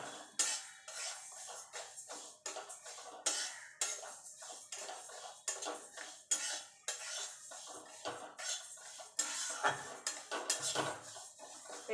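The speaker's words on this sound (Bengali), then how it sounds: "এবার ডালটাকে ভালো করে ভেজে নেব।" Mung dal being stirred and dry-fried in a pan over low to medium heat, with quick scraping and clinking of a spoon against the metal in irregular bursts, close but fairly quiet, no talk.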